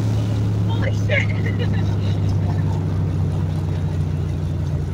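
Fox body Mustang with a 630 rwhp 351W V8 accelerating hard, a loud steady engine roar heard from inside the car with a constant low drone and faint voices beneath.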